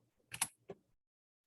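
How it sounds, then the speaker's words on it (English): A few quick computer keyboard keystrokes, a short cluster of clicks and then a single tap, close and clear in an otherwise quiet room. "so I'm typing down here on this command line"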